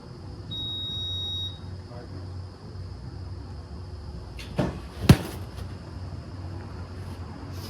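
A steady high electronic tone sounds over a low background hum, followed a few seconds later by a pair of sharp knocks.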